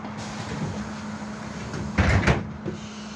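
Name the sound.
trolleybus door closing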